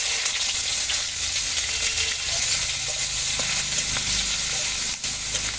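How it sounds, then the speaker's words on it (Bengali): Chopped onion, garlic, whole cumin, dried red chilli and bay leaf fry in hot oil for masoor dal, a loud, dense, unbroken sizzle close by with light stirring and no talking. "একদম লালচে করে ভেজে নেবো পেঁয়াজগুলো।"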